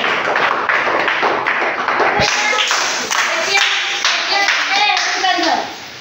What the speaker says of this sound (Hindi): तो ताली बजाओ रे